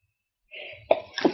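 A single sneeze bursts out after a short breathy intake, brief and fairly close in an otherwise quiet room.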